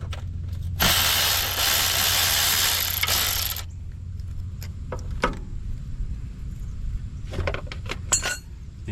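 A ratchet loosens a 10mm bolt on a Honda Accord timing belt tensioner, a burst of rapid close clicking followed by scattered metallic clinks and taps.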